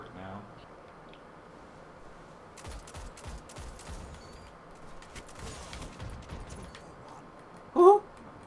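Gunfire in Destiny during a Trials of Osiris player-versus-player match: a run of sharp, rapid shots and short bursts over about four seconds, then a brief bright electronic blip near the end.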